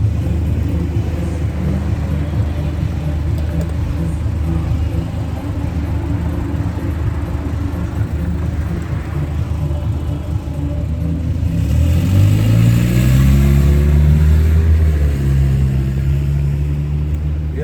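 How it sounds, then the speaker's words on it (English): A car passes by blasting music, its low engine rumble and thumping bass rising to a peak near the end as it draws close, heard alone over steady outdoor background noise. "Wait till this car passed by, blasting music."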